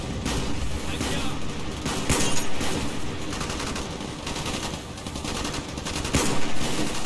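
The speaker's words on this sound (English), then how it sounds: "Jesus, I am getting shot at." Gunfire aimed at the player in Call of Duty Black Ops on the Crash Site level at Veteran difficulty, sustained rapid machine-gun bursts and fusillades throughout, with voices talking over the shooting.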